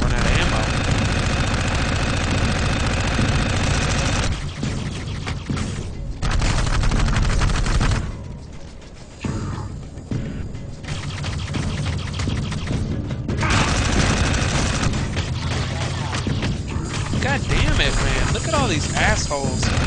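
Dense, continuous gunfire and booms from the video game Dark Void, loud and sustained with short dips, a player's voice faintly underneath.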